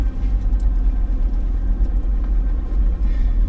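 A truck engine rumbles low and steady as it eases slowly over a steep washout on a rough track, a close, continuous drone with faint creaks and no talking.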